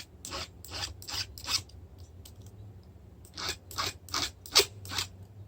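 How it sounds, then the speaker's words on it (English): A hand file rasps across the rakers of a chainsaw ripping chain, set for cutting hardwood, in two quick bursts of rhythmic close strokes separated by a short pause. "filing that chain through all the rakers"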